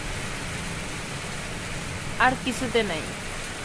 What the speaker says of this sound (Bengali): নিজের বেডে শুইয়া শুইয়া এত সুন্দর বৃষ্টি উপভোগ করার মতো সৌন্দর্য